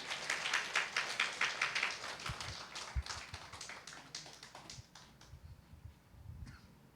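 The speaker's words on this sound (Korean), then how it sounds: "박수 쳐주세요." Audience at a church forum gathering claps in a burst of rhythmic applause that fades into scattered claps and taps, with a few faint voices murmuring underneath.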